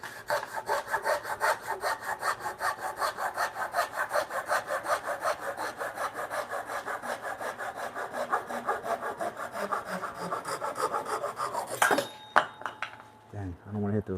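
A hand saw cross cutting wood in a workshop, rapid steady back-and-forth rasping strokes close up for about twelve seconds, then stopping with a few clinks and scrapes of the blade.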